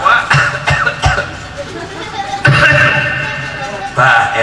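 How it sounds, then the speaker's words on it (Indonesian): Several harsh coughs from a speaker during a humorous Sundanese religious sermon, sharp bursts close to the microphone against a background of voices and crowd noise, with a longer rough burst midway. "batuk"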